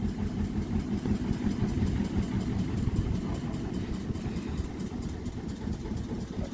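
A tractor engine idles nearby in a steady, low, chugging rumble with fast regular pulses, running continuously without a break.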